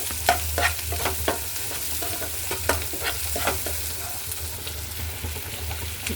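Sliced onions with a pinch of salt and dried red chillies frying in a pan, a spoon stirring in quick repeated scrapes over a constant low sizzle, close up and without speech.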